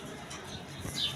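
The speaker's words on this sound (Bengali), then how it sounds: "এখানে একটা মাদি কবুতর আছে, গোপালগঞ্জের বড় পায়রা মাদি" A big female Gopalganj pigeon coos softly and briefly among faint background noise.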